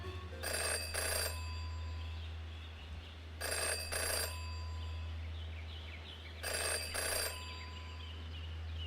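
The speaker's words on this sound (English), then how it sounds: "In her short time as a detective, Jenny had learned never to ignore a ringing phone." A telephone rings in the detective adventure game Jenny LeClue, three evenly spaced double rings over a low steady hum, clear and fairly close with no talking.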